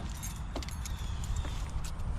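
A bunch of car keys jangles and clinks steadily in a garage while work proceeds on a 2008 Chevy Impala, with faint vehicle noise behind.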